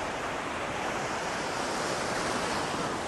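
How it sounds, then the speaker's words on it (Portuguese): Sea waves wash continuously at a beach during a dog surfing lesson, a steady loud roar of surf mixed with wind noise on the microphone, with no voices. "O Augusto está entrando cada vez mais para o mar com o Skinner."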